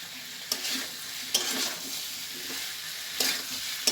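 Cabbage being sautéed in a pan, a steady soft sizzle with a few sharp scrapes of stirring spaced through it, close and fairly quiet.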